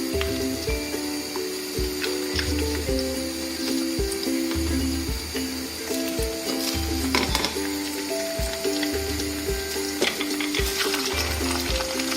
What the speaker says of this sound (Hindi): हाई हीट पे रख के इसको सेकंड फ्राई कर रही हूँ मैं।